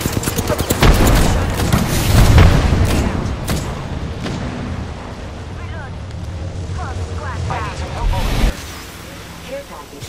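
A frag grenade explodes amid gunfire in the Halo video game. Dense rattling shots and booming blasts fill the first half, then thin out to scattered fire, with a voice speaking over the action.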